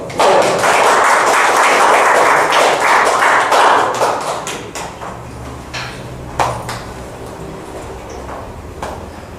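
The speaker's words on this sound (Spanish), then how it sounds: "Y ya lo recibimos con un fuerte aplauso." Sustained audience applause welcoming a speaker at a tax finance lecture, dense and loud at first, then thinning into scattered claps and small knocks as it dies away.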